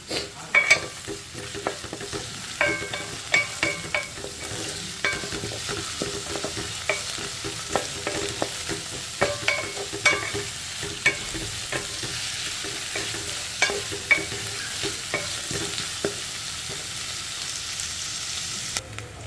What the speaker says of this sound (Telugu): ఇదిగోండి పచ్చిమిరపకాయలు ఉల్లిపాయలు కూడా వేసుకుందామండి ఇవి కొంచెం ఏగనిద్దాము